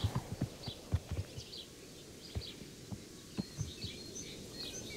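Horse hooves clip-clop in a video game set at a frontier stable, a series of irregular near thuds that thin out, with faint birdsong behind.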